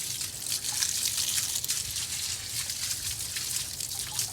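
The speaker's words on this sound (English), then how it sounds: "I'm just rinsing the junk out" Water running steadily over retted flax during rinsing, a continuous close splashing trickle with no talking.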